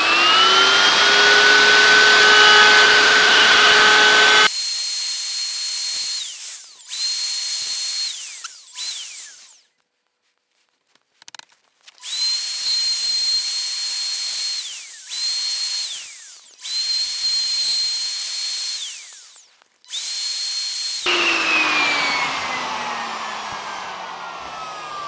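A router cuts along a kitchen worktop in loud, shrill high-pitched bursts, stopping and restarting several times with short gaps of silence, framed by the motor spinning up at the start and winding down at the end.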